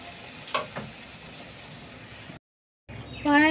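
Mustard seeds sizzle and crackle in hot oil in a pan while being stirred for a homemade mixed pickle, a steady close frying hiss with a couple of scrapes, a brief silent cut, then louder sizzling.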